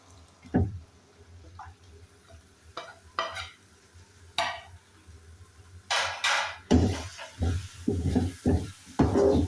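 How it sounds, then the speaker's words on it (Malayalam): Spice powders stirred into sautéed tomato gravy for chicken curry, with intermittent spoon scrapes and knocks against the pan over a soft sizzle, growing busier and louder toward the end, no voices. "ഇനി നമുക്ക് ഈ പൊടികളെല്ലാം കൂടെ ചേർത്ത് കൊടുക്കാം. അതിനുശേഷം പൊടിയുടെ പച്ചമണം മാറുന്നത് വരെ ഇളക്കണം."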